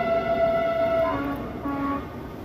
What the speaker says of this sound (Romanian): A trecut și trenul pe lângă mine.